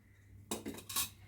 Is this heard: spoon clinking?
yes